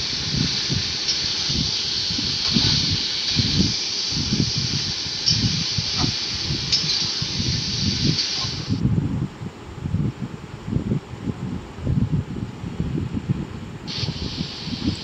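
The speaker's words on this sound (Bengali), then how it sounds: "দিয়ে মাংসটা এবার একটু নেড়ে ছেড়ে অল্প অল্প ভাজা ভাজা মতো করে নেব" Marinated meat frying with whole garam masala in a pan gives a continuous loud sizzling hiss with crackles and stirring scrapes, close and steady throughout, without speech.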